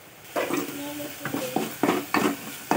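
A spoon stirs ginger paste into mushroom curry in a pan with cloves and cinnamon, a handful of scraping, clinking strokes against the metal over a light sizzle, nearby and moderately loud.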